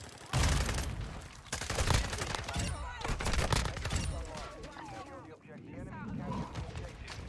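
FSS Hurricane submachine gun fire in Modern Warfare 2, loud rapid bursts of shots crackling through the match, mixed with game effects while a player talks excitedly over it.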